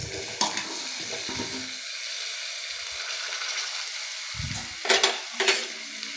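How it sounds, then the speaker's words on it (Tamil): Chili powder and chopped ivy gourd fry in hot oil, making a continuous sizzle broken by loud stirring scrapes and clanks of a spoon against the pan, with sharper bursts near the end. "இப்போது எண்ணெயில் மிளகாத்தூள் போட்டுக்கலாம்"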